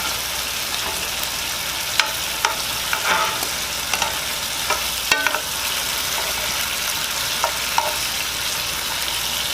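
Shrimp cooking in a pan with sauce, a loud, close, continuous bubbling sizzle broken by occasional sharp clicks and taps of a utensil against the pan.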